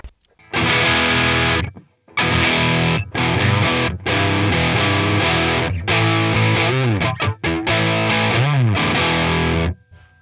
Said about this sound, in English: That's a fully usable distortion.